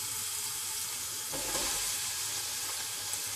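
Onions and green chilies frying in oil for vegetable biryani, a steady broadband sizzle throughout with a brief stirring scrape around the middle, close and continuous with no talking.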